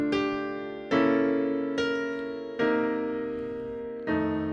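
Piano chords struck one at a time in a slow, steady ballad-style rhythm, each ringing out and fading before the next, played alone and clearly.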